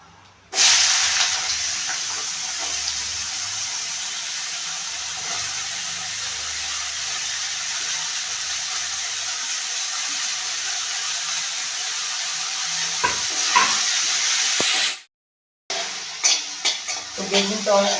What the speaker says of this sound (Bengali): এবার আমি বেগুনের টুকরোগুলো ভেজে নেব।